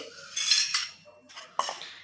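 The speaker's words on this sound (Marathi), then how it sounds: "एक मिक्सरचं भांडं घेते" A mixer grinder jar is picked up and handled in a kitchen, producing a few close metallic clanks and scrapes in short bursts with quiet gaps between them.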